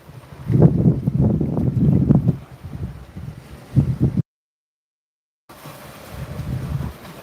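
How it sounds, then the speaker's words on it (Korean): Strong sea wind at a quiet seaside, stirred up by a typhoon, buffets the microphone in heavy gusts, rumbling and roaring, with a brief dropout and then quieter blustering. "태풍이 영향권 때문에 바닷바람이 좀 센데"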